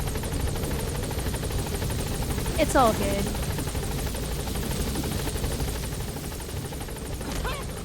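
A helicopter in the video game Metal Gear Solid V, carrying a load of Soviet soldiers, drones steadily for the whole stretch under a brief line of speech, with a short burst of other game sounds in the middle.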